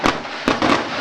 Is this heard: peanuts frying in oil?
no